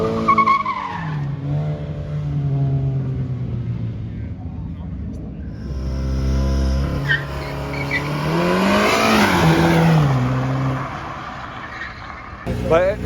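Loud exhaust of a manual BMW 340xi with the B58 engine in sport mode, rising and falling revs with a tire-squeal-like whine near the end, close by, with people talking and shouting over it.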